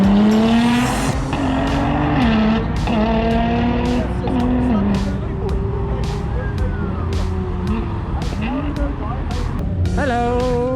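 A Nissan R35 GTR with anti-lag passes amid other racing cars, giving a loud, continuous engine roar with shifting pitch, punctuated by repeated sharp pops and crackles, while people talk excitedly over it.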